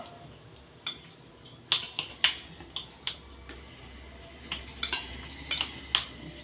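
A spoon mixing cooled mashed moong dal with salt, producing a string of light clinks and taps against the bowl at an irregular pace, quiet and close.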